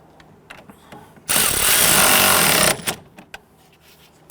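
A power tool, likely an impact wrench, runs in one loud burst of about a second and a half, tightening the clevis fork bolt on the front lower control arm of a 2008-2013 Infiniti G37, with faint workshop clatter before and after.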